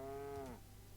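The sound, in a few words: cows mooing in the video game Dragon Age: Origins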